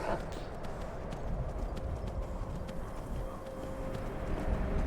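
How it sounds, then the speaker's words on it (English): A horse being ridden down a hillside in Skyrim, its hooves clip-clopping steadily under a constant layer of game ambience and broadband noise, moderately loud and close. "I wonder if I can maneuver this horse down the hill"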